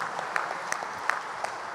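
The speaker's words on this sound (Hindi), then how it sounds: "भले ताली बजाओ इनके लिए।" Audience applause at a ceremony at a spiritual university, soft and steady with a few sharper claps, faint and slightly distant, with no talk over it.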